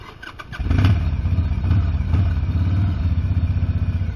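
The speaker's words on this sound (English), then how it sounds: "Whoa, or stall the bike." Motorcycle engine catching and starting on an icy laneway, a few sputters then a steady close idling rumble with rhythmic pulsing, loud and alone.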